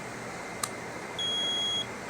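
A solar generator battery pack gives a short, high electronic beep when plugged in, a single clear tone in a quiet room after a faint click.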